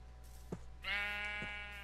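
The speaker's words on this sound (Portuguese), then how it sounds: "Ovelha." A sheep in the video game Minecraft lets out a single clear, nasal bleat near the middle. A few soft thuds and quiet game ambience sit around it, with no talking.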